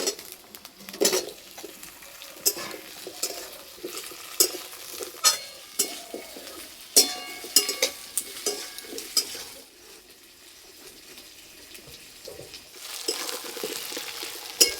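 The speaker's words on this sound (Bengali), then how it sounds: "এবার আলু দিয়ে দেবো।" Potatoes fry in oil with onions in a kadai, a soft sizzle broken by repeated scraping and clinking strokes of a spatula, then a quieter stretch of gentle frying before the stirring picks up again.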